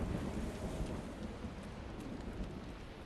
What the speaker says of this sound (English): Good nasty looking storm.